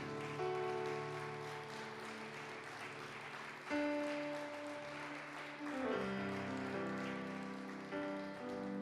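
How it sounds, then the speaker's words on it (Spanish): A church congregation applauds over sustained worship music, a soft patter of clapping blending into held organ-like chords and keyboard tones that shift midway, all at moderate distance. "Denle un fuerte aplauso al Rey."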